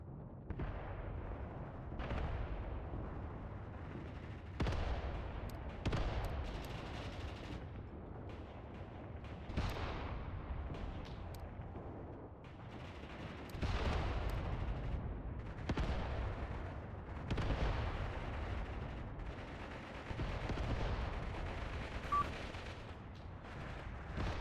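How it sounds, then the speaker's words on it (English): Mortar fire in the World War II strategy game Mius Front, a series of deep booming launches and explosions repeating irregularly over a low rumbling battle backdrop, no talking. "Now, mortars are firing."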